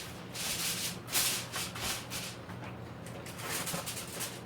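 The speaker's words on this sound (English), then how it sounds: "probably cover it with some aluminum foil if you want" Aluminum foil is drawn from its box in a home kitchen during Salisbury steak prep, producing a steady close crinkling rustle with brighter crackles and no talking.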